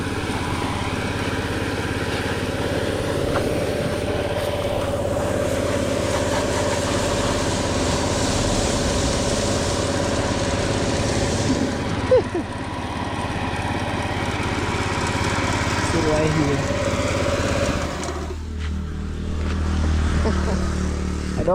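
A machine-driven water sprayer washes a muddy bike, giving a loud, steady mechanical drone with a continuous hiss of spray that runs throughout, dipping briefly near the end before resuming.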